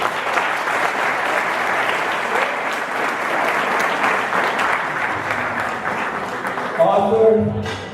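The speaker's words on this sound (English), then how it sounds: "Let's give a round of applause to Arthur." An audience gives a sustained round of applause, dense and loud throughout, with a voice starting to speak as it tapers off.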